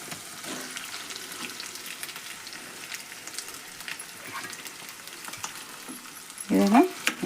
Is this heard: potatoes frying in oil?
yes